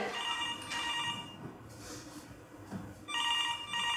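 A telephone rings in an office, with repeated electronic ringing bursts near the start and again near the end, fairly clear over a quiet room with no talk.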